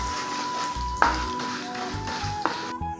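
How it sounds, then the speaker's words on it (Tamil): Chana dal and urad dal sauté in a pan for cabbage chutney: a soft, low sizzle runs throughout, broken by a few sharp spatula taps against the metal. "இந்த கடலப்பருப்புலாம் நல்லா செவந்து வரட்டுங்க அது வரைக்கும் நல்லா வதக்கலாம்"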